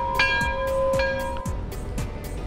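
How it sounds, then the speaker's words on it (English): A bell rings several times in quick succession, loud and resonant, with strikes overlapping into a ringing wash, in a Ford dealership setting with a 2017 Ford F-150 Lariat 4WD. "Somebody ring the bell!"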